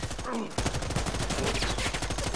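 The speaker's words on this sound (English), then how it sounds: "He started shooting his minigun and my headset almost broke." A minigun fires in the video game Predator: Hunting Grounds. After a brief pause, a loud, harsh stream of rapid shots starts and continues nonstop, distorted and close.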